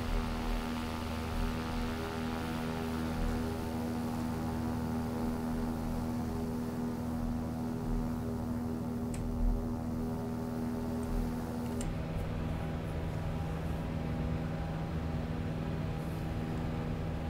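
A Diamond 40NG aircraft climbs after takeoff from Marseille in X-Plane 11, its engine droning as a steady, even hum throughout, with a slight shift in tone near the end and no talking.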